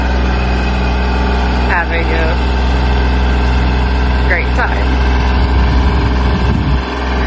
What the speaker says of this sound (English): As you can see, it's not a very tough tractor.